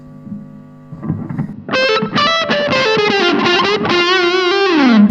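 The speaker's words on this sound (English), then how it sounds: "It's just a really cool sounding fuzz now." An electric guitar played through a Mythos Big Puft fuzz pedal, tone set to middle, grinds out thick, saturated chords and a sustained bending note, loud and buzzy with a mid-range tone.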